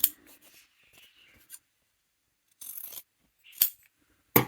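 Scissors trimming fabric while sewing a wallet, a few short crisp snips scattered across quiet pauses, close and fairly faint, with soft handling rustle between cuts.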